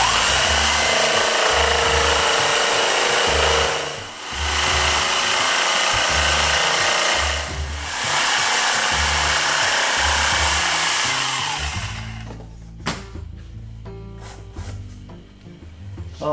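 A loud, buzzing power tool grinds continuously through a plastic motorcycle windscreen on a Kawasaki Versys 1000, briefly easing off twice, then stops, leaving quieter handling noises and small clicks.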